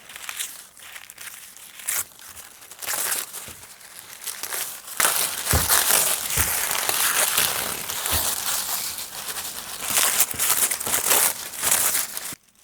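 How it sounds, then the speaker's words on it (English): Foundation paper crinkles and tears as it is pulled away from the stitched seams of a quilt, close and loud, in irregular rustling bursts that grow busier midway. "So I'm going to be able to just remove this paper."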